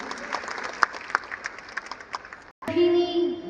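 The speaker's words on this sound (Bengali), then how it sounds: "জোরে হাততালি হয়ে যাক সবার মিলে।" Applause from a large crowd at a live program in an indoor stadium runs for about two and a half seconds, with some children's voices in it. It cuts off to a short gap, and then a loud sustained tone follows.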